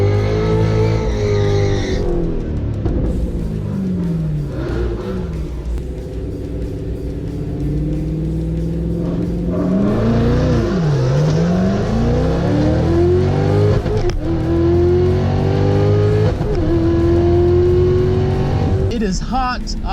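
A $150,000 Corvette with a full drag setup roars through a drag racing run against Mustangs, engine revving and rising through gears with tire squeal, loud and continuous, while people talk over the noise.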